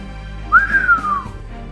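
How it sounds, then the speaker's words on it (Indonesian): A single drawn-out whistle used as a sound effect in an Indonesian martial-arts audiobook, rising briefly then sliding slowly downward over about a second, clear and close with no talk. "dari mulutnya yang menyeringai keluar suara siulan"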